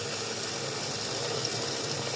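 Water dumped into a toilet drain pipe past saw cuts gushes and rushes steadily, a loud, continuous close-up flow with no talk.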